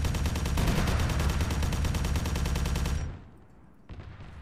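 Rapid, continuous heavy-weapon fire in ARMA 3 with a Warhammer 40k mod, a dense loud stream of shots lasting about three seconds before cutting off, followed by a short quiet gap and a faint return of sound.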